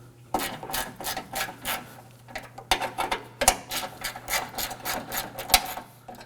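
A ratchet with a 10mm socket works on the radiator bracket bolts of a 2014-2020 Acura MDX, producing a close, rapid run of rhythmic clicking bursts with a few sharper metallic clacks over a faint hum.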